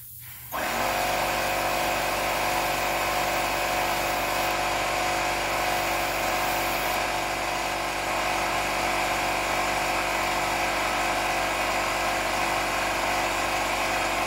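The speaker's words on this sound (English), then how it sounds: "Compressor's kicked off." A small air compressor runs steadily for airbrush painting a shad-pattern crankbait, starting abruptly and then holding an even, loud mechanical hum with no pauses and no voices over it.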